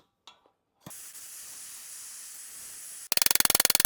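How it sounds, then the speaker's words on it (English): A torch applies heat to a seized lower ball joint on a Mini R53, giving a steady close hiss that ends in a rapid, loud pulsing burst. "I'm going to go ahead and apply a little heat on this outer side here and see if that helps pop it loose."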